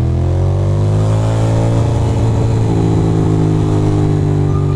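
Steady engine hum from a car moving through New York City traffic, with a low constant drone and a slight rise in revs, loud and continuous.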